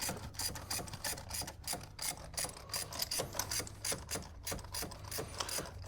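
A ratchet wrench turns a spark plug on a Toyota 1JZ-GTE twin-turbo engine in a 1992 Toyota Mark II JZX90, giving steady rapid clicking close by, with no talk.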